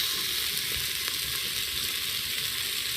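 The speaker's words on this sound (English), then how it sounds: "I'm laying down the bacon so it's sizzling on the bottom" Bacon sizzles and crackles steadily on the bottom of a hot pressure cooker, a dense continuous hiss with small pops, close up and without speech.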